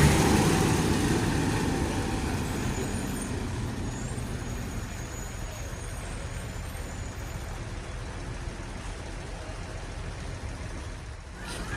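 A Halmera bus rolls into the Adiputro coachbuilder yard, its engine a low steady rumble, loudest at the start and easing as it moves slowly, with a brief hiss near the end.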